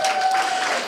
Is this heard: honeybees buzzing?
no